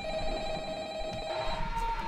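A telephone rings in a horror-style video game, its steady electronic ringing tone sustained throughout over a dense background of game ambience.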